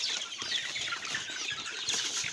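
Young chicks kept on a farm, a busy flock clucking and cheeping continuously at close range, without voices over it.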